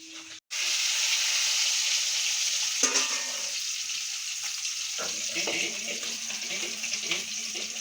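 Food frying and sizzling in a pot on a wood-fired stove, being stirred with a utensil, steady hiss with faint scraping and clinks up close, a voice briefly heard.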